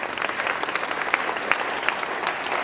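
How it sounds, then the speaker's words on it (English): Sustained audience applause at a Hispanic Chamber business luncheon, a steady roar of many hands clapping at once, close and continuous throughout. "Since they keep clapping, they're taking up my time with that clapping."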